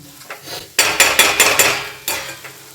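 Sattu flour being stirred and roasted in a pan for a cauliflower paratha filling: a spoon scrapes and knocks against the pan in several quick, close bursts with short pauses between them, and no voices.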